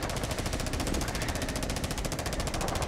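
Rapid automatic gunfire from Rainbow Six Siege rattles continuously and densely throughout, a sustained burst of many shots with no pauses.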